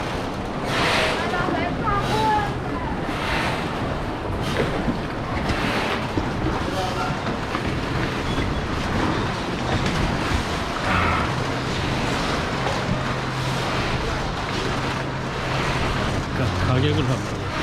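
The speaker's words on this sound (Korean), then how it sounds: "이 생각보다 이 파도가 꽤 세다." Strong waves on the Bukhan River near Cheongpyeong Dam, a continuous loud rushing and splashing wash mixed with wind buffeting across the whole stretch, with voices heard now and then.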